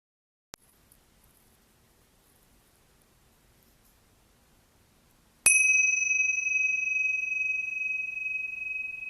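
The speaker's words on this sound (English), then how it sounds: "We'll start and end our practice with a bell." A meditation bell is struck once to open a practice session: a bright, clear ring that starts suddenly and hangs on, slowly fading, after a long near-silence broken by one small tap.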